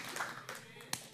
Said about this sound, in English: I know we do a lot of clapping here,